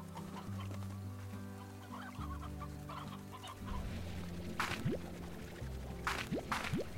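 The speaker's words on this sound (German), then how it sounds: "Das Huhn ist mir nur so reingerutscht." Chicken clucks from the video game Slime Rancher, a few short calls near the end over a steady droning game soundtrack.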